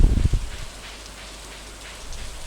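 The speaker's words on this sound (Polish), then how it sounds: "jesienią często pada deszcz." Steady rain hiss in the video game Stardew Valley, moderately soft and even, after a brief low thump at the start.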